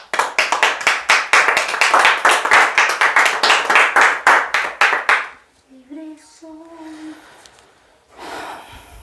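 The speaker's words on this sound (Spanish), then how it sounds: "Vamos a dar un aplauso a Dios." Rhythmic hand clapping from a church congregation, strong and close for about five seconds in an even beat, then stopping, followed by quiet voices and a faint tone.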